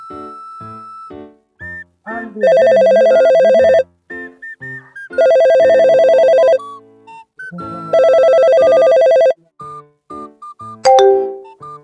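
A mobile phone rings with a loud, melodic electronic ringtone, its tuneful phrase playing in three repeated bursts separated by shorter beeping notes, ending with a sharp click, and no one speaks.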